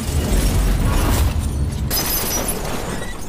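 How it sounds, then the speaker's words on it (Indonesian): A loud, rumbling car explosion after a collision, with crashing debris, filling the clip at full volume and then trailing into a dense roar. "Dan terjadi sebuah ledakan di sana."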